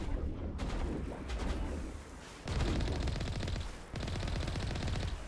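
Sustained automatic gunfire in the Mass Effect video game, loud rapid bursts broken by brief pauses, with dense, rattling shots.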